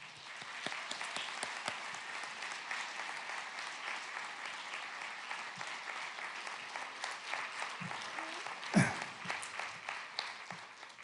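A crowd applauds steadily at a homeschool graduation ceremony, many hands clapping in a dense wash of sound, with a brief louder bump near the end.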